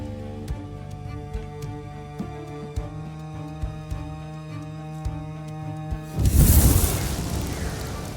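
Explosion from firing Drake in King Arthur: Knight's Tale, a deep booming blast arriving after several seconds of sparse clicks and musical tones, then a rumbling tail that fades slowly.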